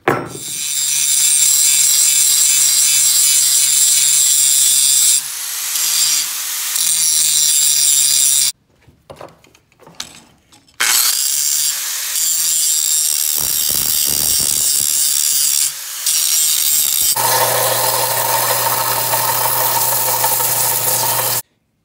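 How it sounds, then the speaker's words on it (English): Loud, sustained grinding and abrasive cutting of forged metal pieces, a power tool whining in long continuous bursts with short pauses and quieter clanks between them. "time to start grinding them to shape and cutting them also to shape"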